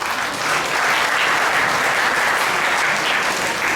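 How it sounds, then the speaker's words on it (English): A crowd at a science awards programme gives awardees a sustained round of applause, dense and steady throughout, with no talk over it. "A big round of applause, please"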